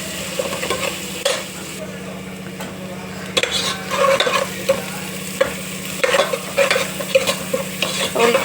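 Onions fry with salt in a pan for egg pulusu, giving a continuous sizzle while a spoon stirs and scrapes against the metal in irregular bursts, with a low hum underneath and no speech.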